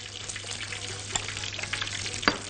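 Onion frying in a pan gives a continuous soft sizzle with light crackles and a couple of sharper pops, fairly quiet and without voices.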